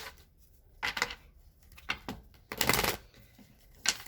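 Tarot cards being shuffled by hand, several separate riffling bursts with pauses between, close and fairly quiet, no voices.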